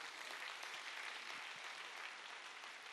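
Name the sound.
audience applause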